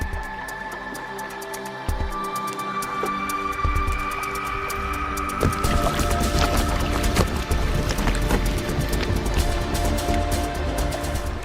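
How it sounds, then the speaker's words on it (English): Ice grinding and popping bubbles in a cove packed with ice in Antarctica, where glaciers pour from surrounding mountains, a steady close crackling and scraping wash that thickens after a few seconds, with faint tonal hums running underneath. "the sound of bubbles popping, the sound of ice grinding against itself"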